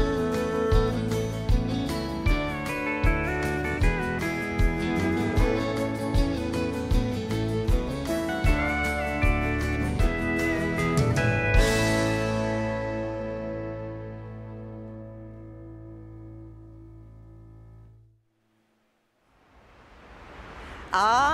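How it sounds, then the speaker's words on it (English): Live country band performing on stage at the Grand Ole Opry, with steady rhythmic beats and layered instruments that build to a final sustained chord, ring out and fade to silence before a burst of crowd noise. "Now that is the sound of good country music right there."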